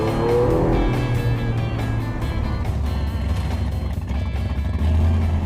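A rat rod hot rod drives along with a loud, steady engine roar and low exhaust rumble throughout, a little tire noise in the mix, and no talking.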